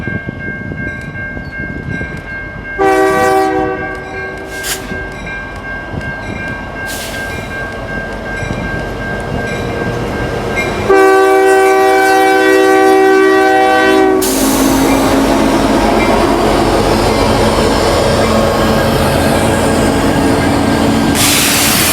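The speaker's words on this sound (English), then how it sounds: "Another CN local enters Kirk Yard with a similar lash-up" A CN freight local with a mixed locomotive lash-up, including an SD60, rolls into Kirk Yard, sounding several loud multi-tone horn blasts of varying length over rumbling wheels, with a sharp rise into louder clattering rail noise near the end.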